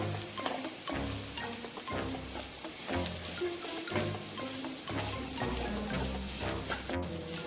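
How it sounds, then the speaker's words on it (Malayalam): Rhythmic stirring strokes scrape through a pan as chicken is mixed into masala over a steady sizzle, each stroke roughly a second apart, close up with no voices. "ഇത് നമുക്ക് മസാലയിലോട്ട് ഇട്ട് കൊടുക്കാം. നന്നായിട്ട് മിക്സ് ചെയ്യാം."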